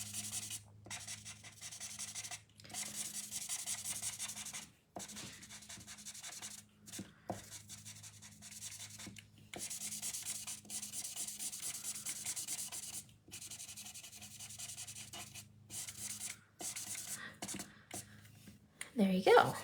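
A chisel-nib E70 alcohol marker rubs steadily across card stock in long, soft scratchy strokes with short pauses. The strokes are close, continuous, and alone.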